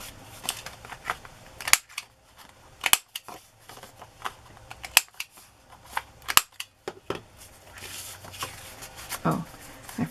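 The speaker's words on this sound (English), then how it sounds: "I only cut it one way. I have to cut it the other way now." Paper being cut with scissors in a craft session making mermaid-themed ephemera: a series of crisp, close snips come one by one at irregular intervals, with small rustling handling noises between them.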